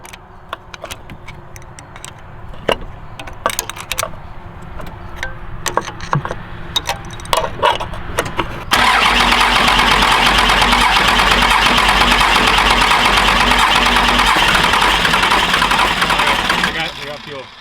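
Cummins truck engine being cranked in an attempt to start it, with scattered clicks and knocks and some talking, then a loud, steady, harsh roar of cranking that holds for about eight seconds before cutting off.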